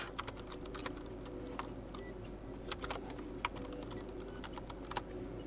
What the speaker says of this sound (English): Now type this code in your Honor Suite app.